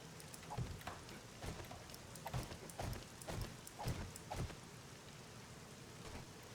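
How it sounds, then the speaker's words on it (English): Rain falling in the survival game 7 Days to Die, a soft steady patter with scattered heavier drips and taps, moderately quiet and continuous with no voices. "Sound of that rain."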